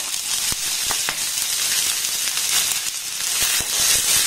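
Onion and green chili sizzle steadily in hot oil in a pan, a loud continuous hiss broken by occasional sharp crackles and stirring clicks.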